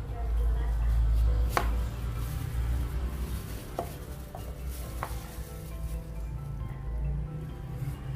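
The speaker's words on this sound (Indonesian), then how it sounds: "Apelnya diiris tipis-tipis." A knife thinly slicing apples for a steamed apple bread pudding, a few sharp cuts against a board, spaced irregularly, heard close over a low steady kitchen background hum.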